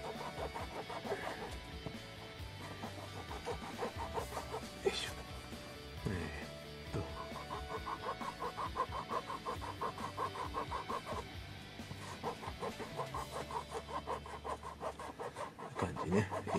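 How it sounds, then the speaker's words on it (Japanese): Steady rasping file strokes on the rubber tires of a Subaru Impreza WRC plastic model kit, a continuous scratchy rubbing that runs close to the mic throughout, with a few louder knocks and shuffles mixed in. "さっきなんかいい感じで削ってたのに今度なんかちょっと変な感じだな、削りにくいな"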